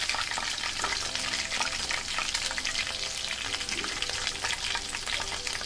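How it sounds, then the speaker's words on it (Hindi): Chicken lollipops deep-fry in hot oil with a dense, steady, bright sizzle and crackle, heard close and continuous with no talk. "ये देखिए ये कितना अच्छा से गोल्डन कलर में फ्राई भी हो गया है"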